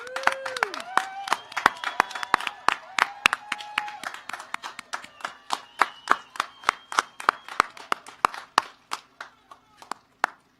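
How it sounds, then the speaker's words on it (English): Scattered, sparse clapping from a commencement ceremony audience after the new graduates' degrees are conferred: individual sharp claps ring out one by one with small gaps, fairly close, and a faint voice-like tone at the start. "Round of applause."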